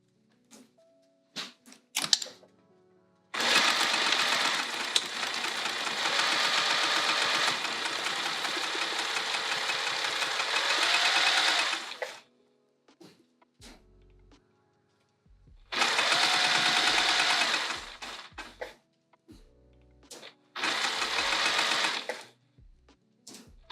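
A sewing machine stitches a bag with a loud, steady whir in three separate runs, the first and longest lasting about eight seconds. Light handling clicks and pauses fall between the runs.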